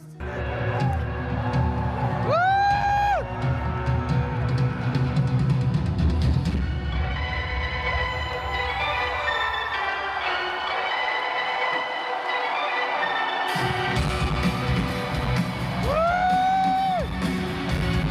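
Arena crowd at the League of Legends Worlds team walk-ins, a loud sustained roar of cheering with rising whoops and yells, blended with booming music throughout.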